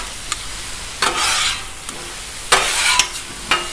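Chicken stir fry sizzling on a 36-inch Blackstone griddle, a steady close hiss broken by repeated bursts of scraping and tossing as a spatula turns the food.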